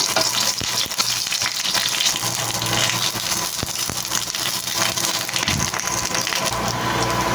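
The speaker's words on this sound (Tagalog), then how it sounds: "Prituhin natin ang talong" Eggplant fries in a pan with a loud, constant sizzle and crackle, broken by occasional sharp pops and scraping stirs.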